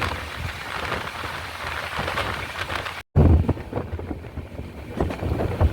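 Rain beats steadily on the Island Express train near Varkala station in Kerala; a soft, continuous patter is broken only by a momentary cutout.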